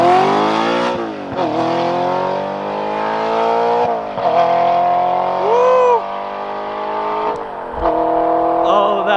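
An Audi R8 V8 fitted with an Fi active exhaust, valves open, revs hard in repeated loud surges with rising and falling pitch, close by and dominant throughout.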